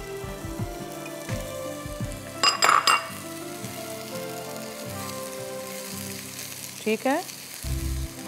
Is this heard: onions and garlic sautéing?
yes